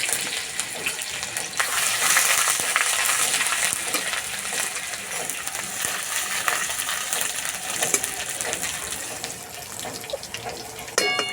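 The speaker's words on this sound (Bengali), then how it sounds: "আদা ভাজা হয়ে গেছে" Grated ginger, whole cumin and slit green chili fry in white oil in a karahi, giving a dense, continuous close sizzle with a brief louder swell early on and scattered small clicks.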